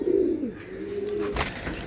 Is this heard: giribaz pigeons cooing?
yes